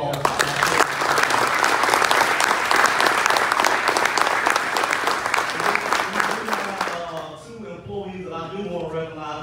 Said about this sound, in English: So y'all give a big round of applause.